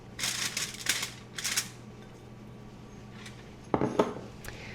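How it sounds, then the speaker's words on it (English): Raw steak tips set down into a sheet of aluminum foil for a slow cooker beef dinner, making a few short, crisp foil crinkles and rustles close by, with quiet pauses between bursts. "We're gonna put these steak tips right in our aluminum foil."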